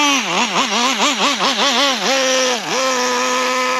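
Hobao 10SC nitro RC truck engine running rich at idle, a loud close buzzing drone that wobbles up and down in pitch for a couple of seconds before settling into a steadier, slightly lower idle tone.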